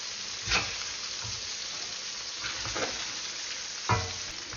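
Beef deep-frying in very hot oil, a steady close hiss of sizzling with a few louder crackling pops and spits, no voices.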